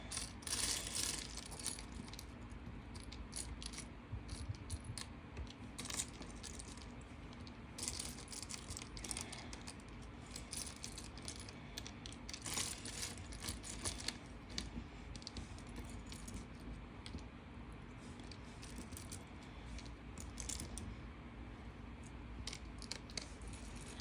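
Small Daiso Petit Block plastic pieces click, rattle and clatter as they are handled and sorted, a busy stream of light taps and jostling through the whole stretch, close by and fairly quiet with no talking.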